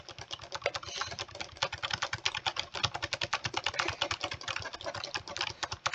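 Rapid clicking at a computer while playing Blox Fruits, a dense, fast, steady run of close, crisp clicks that goes on unbroken throughout.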